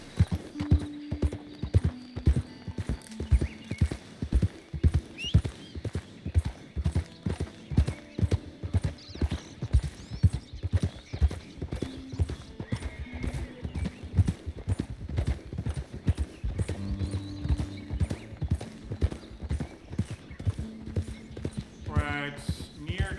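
A horse ridden in Red Dead Redemption 2 clip-clops steadily along, hoofbeats close and rhythmic for the whole stretch, with creaking tack, a brief whinny and someone occasionally talking over it.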